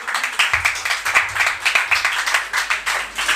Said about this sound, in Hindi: एक बार खुद ही के लिए ताली बजा लीजिए जोर से।